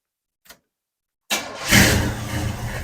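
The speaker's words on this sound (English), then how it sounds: "you hear this engine run in this truck" An old farm truck engine catches after a faint click, cranking briefly before firing into a loud, rough running roar that swells once and settles into a steady, throaty idle up close.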